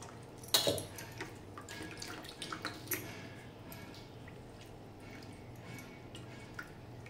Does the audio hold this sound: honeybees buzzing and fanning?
no